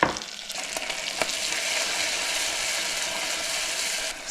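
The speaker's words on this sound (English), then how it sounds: "kind of trying to caramelize the soy sauce just a little bit" Soy sauce with a sprinkle of dashi powder sizzles and caramelizes in a hot pan while ramen chashu is cooked, a steady close crackling fry with a few sharp ticks near the start.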